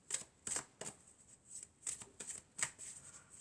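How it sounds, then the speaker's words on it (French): Oracle cards being shuffled by hand, a series of soft, quick riffling bursts in an uneven rhythm, close and quiet with no talking. "on va prendre quelques cartes de l'oracle de la Triade"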